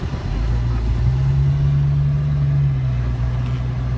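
A Jeep Cherokee Classic SUV with 58K miles on a test drive, heard as a steady, loud low engine hum and road rumble from inside the cabin, continuous throughout.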